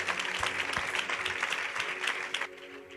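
A church congregation in Delhi breaks into dense, steady applause that holds for a few seconds before tapering off at the end.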